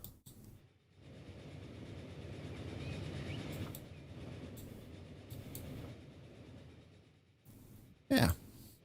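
A train runs in the Transport Fever game, a soft rolling rumble of rail wagons that swells and fades, with a few clicks and a brief sharp burst near the end.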